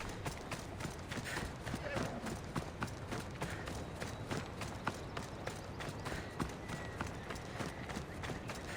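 Hooves clop in a steady, quick rhythm in a video game, under a constant noisy wash, as if a horse trots along without pause.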